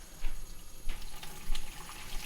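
Cold tap water runs steadily into a strainer of green beans in a kitchen sink, a close, continuous splashing rush with brief louder gushes as the flow shifts.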